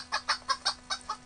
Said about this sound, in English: here's that hen I just bought. I'm going to pick her up and put her in this nest.